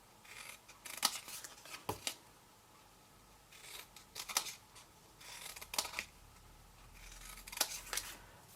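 Scissors snip score lines in card for a tiny Christmas tree decoration, with about five or six crisp cutting bursts spaced a second or so apart, close and clear with no talking.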